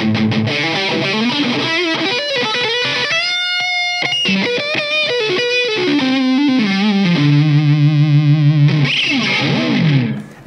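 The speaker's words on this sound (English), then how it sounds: "I'll talk you through the specs of the beautiful Jackson RR3 and then showing you what it sounds like" Jackson Pro Series Rhoads RR3 electric guitar played through a Blackstar amp with heavy distortion, loud and close, running through sustained chords, quick riffs and a held bent note before cutting off abruptly.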